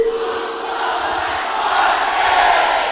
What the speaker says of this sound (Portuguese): todo mundo vai gritar: juntos somos mais fortes